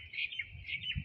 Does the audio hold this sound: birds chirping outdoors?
yes